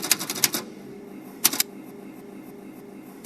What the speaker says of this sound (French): Une machine à écrire.